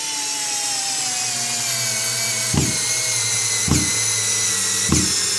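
A mini cordless screwdriver from AliExpress whines steadily while driving a screw into wood, with its pitch sagging slightly, and gives three sharp knocks at even intervals.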